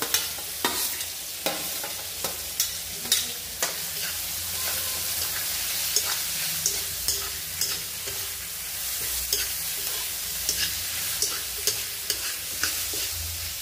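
Two large onions stir-fried in a pan for restaurant-style kaju curry: steady bright sizzle with frequent close scraping strokes of a spoon against the pan.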